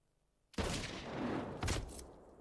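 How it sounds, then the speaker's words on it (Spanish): A single sharp gunshot from a cartridge with a reduced powder charge bursts out after a short silence, followed by a rumbling echo and a second fainter crack as it fades. "Reduciendo la cantidad de pólvora del cartucho, James simula ese disparo"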